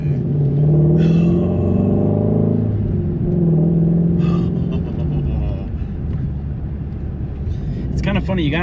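A Ford Mustang GT500 engine rumbles loudly nearby and surges through a couple of throttle stabs, rising and falling in pitch, with people talking over it.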